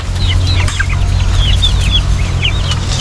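Chickens clucking steadily at a farm, several birds close by with overlapping calls over a constant low background rumble, no voices.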